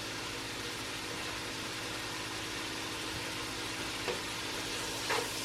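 Cubed pork steak and turnip greens sizzle steadily in a pan as garlic is stirred in, a constant close frying hiss with a few faint scrapes of the spoon near the end.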